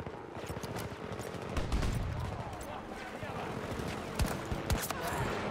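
An underbarrel shotgun fires in the video game Battlefield 2042 amid a busy battlefield, with several sharp, fairly quiet blasts and scattered gunfire over constant background combat noise.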